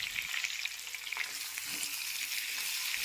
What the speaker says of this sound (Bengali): পরিমাণ মতো লবণ আর হলুদ দিয়ে আলুগুলো ভালো করে লাল লাল করে ভেজে নেব।